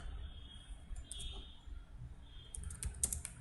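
C++ code typed on a computer keyboard, soft scattered key clicks in short bursts, quiet and close over faint room noise.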